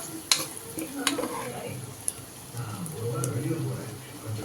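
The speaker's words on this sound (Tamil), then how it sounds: "நல்லா ஒரு 3 வாட்டி 4 வாட்டி கிளறி விட்டுக்கிட்டே இருங்க" On low heat, tomatoes fry in a pan for mutton varuval while they are stirred, a soft sizzle broken by occasional spoon clinks against the pan, with someone talking over it.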